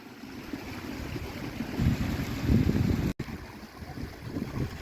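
Creek swollen and newly flowing after several days of heavy rain: a continuous outdoor rush of running water, moderately loud, swelling in the middle and with a brief dropout, no talking.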